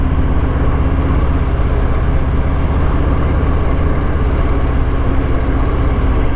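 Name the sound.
Harley-Davidson Fat Boy motorcycle engine during test ride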